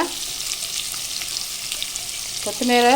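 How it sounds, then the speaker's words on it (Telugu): Fish pieces frying in a pan make a continuous bright sizzle with light crackles. A short tonal whine rises over the sizzle near the end. "చూడండి చేప ముక్కలు రెడీ అయిపోయాయండి, చేపల ఫ్రై."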